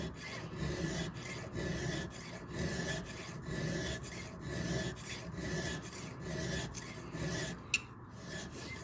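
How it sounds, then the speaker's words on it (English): A round file rasps steadily against a Husqvarna 61 chainsaw chain in a run of even strokes, close and fairly quiet, ending with one sharp metallic tick. "I'm sharpening the one right off the corner"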